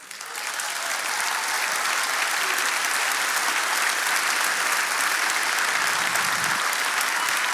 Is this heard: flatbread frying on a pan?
no